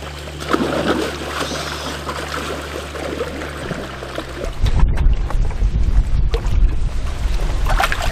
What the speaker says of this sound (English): I suspect he ordered the fish to splash me